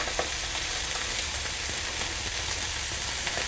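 Salmon fillets frying in hot oil with blackening spice added, giving a steady, close, dense sizzle that holds evenly throughout with faint stirring ticks and no voices.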